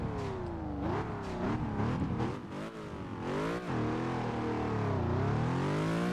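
A car engine in the racing game Test Drive Unlimited 2 revs hard and accelerates through several gear shifts, its loud, steady whine climbing and dipping with no talk over it.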